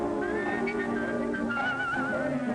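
Someone whistles a wavering melody over soft background music, clear and close, with sustained notes sliding up and down.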